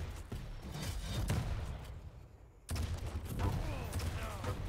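Rocket launcher fire in a Quake match during a competitive duel: a dense, continuous barrage of blasts and thuds, with a sharp new burst partway through, set loudly against busy game sound and commentary talk.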